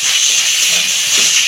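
Cumin powder and other spices sizzle as they are sautéed in a hot pan, a loud, steady, close hiss with no break.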